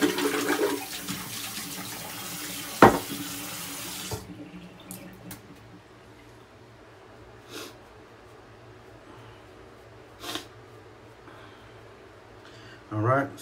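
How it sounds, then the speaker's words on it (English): Tap water runs loudly into a sink as a shaving brush is rinsed after lathering a vegan shave cream. The flow cuts off after about four seconds, followed by quiet room sound and a few brief knocks. "Rinse off my brush."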